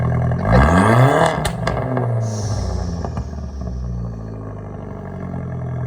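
An Audi A4 B5 1.8T with a 3-inch straight pipe exhaust revs hard close by, its roar sweeping up sharply before dropping into a loud, rough rumbling idle.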